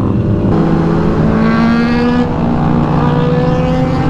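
Several sport motorcycles, including a Kawasaki Z900, ZX-10R, Benelli, BMW and Royal Enfield GT650, roar past in a loud, sustained fly-by, with engine pitch rising and shifting as the group passes close by.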